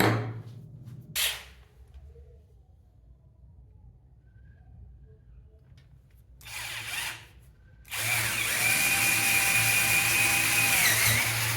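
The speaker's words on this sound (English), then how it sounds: "Here, I'm using a suitable drill bit for the candle" A power drill bores a hole in a wooden incense and candle holder, with two brief bursts of drilling followed by a long sustained whine as the bit cuts, separated by quiet pauses.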